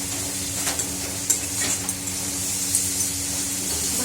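Spices for a potato and pea aloo dum frying in a pan, a soft continuous sizzle with a few sharp spatula scrapes and taps, close and quiet, no voices.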